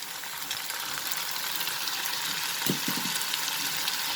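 Tomatoes tipped into a hot pan of sautéed egg bhurji base, setting off a steady, close sizzle and bubbling fry with a few soft knocks of ingredients landing partway through.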